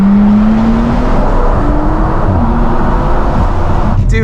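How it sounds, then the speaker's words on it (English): A tuned Audi S5 Sportback accelerates hard in a steady, loud surge of engine and exhaust, the pitch climbing gradually through a pull, with a brief higher whistle near the end. "doing those pulls just now, it's really exciting the sounds this car makes"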